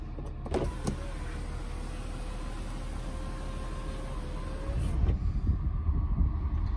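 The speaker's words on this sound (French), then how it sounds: "le petit toit ouvrant qui fonctionne en plus" A BMW 5 Series E39 525d's electric sunroof motor whirs steadily for several seconds, then stops with a soft clunk, followed by low rumbling.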